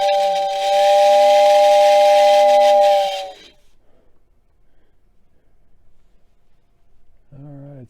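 Whistle of a Lionel 6466W model train tender sounds loud and steady for about three seconds, a breathy two-tone hoot with hiss, then cuts off to near silence before a brief humming sound returns at the end.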